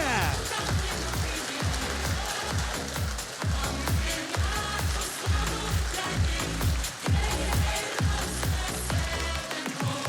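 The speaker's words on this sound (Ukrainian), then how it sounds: "ваші оплески" An audience at a live charity auction evening applauds steadily after a winning bid for a flag signed by the team, the dense clapping sustained and loud throughout with rhythmic music pulsing underneath.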